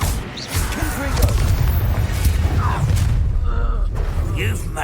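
Fire spell explosion in the Hogwarts Legacy video game, a dense booming blast with thuds and crashing debris over a steady loud rumble, mixed with ongoing game sound effects across the whole stretch.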